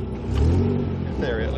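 The Birkin Blower vintage racing car's engine revs briefly during a gear change, a short loud burst of mid-pitched engine roar close by.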